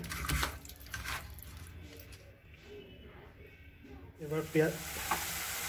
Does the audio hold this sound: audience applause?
no